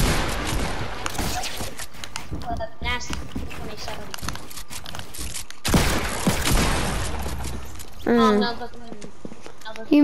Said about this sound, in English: You missed a revolver shot.